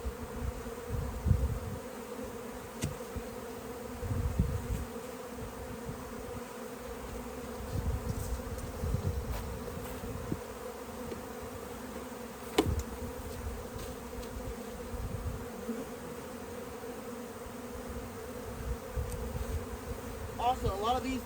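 Honey bees buzz around a colony being split into two, a continuous low drone with individual bees passing close now and then, and a sharp knock partway through.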